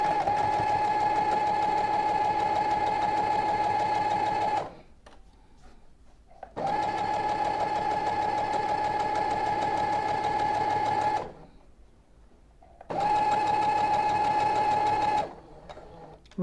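A sewing machine runs in three long steady bursts while stitching a 1/2 inch seam on a baby pillowcase dress, with brief reverse stitches and quiet gaps between runs. The whirring is loud and close, and no one speaks.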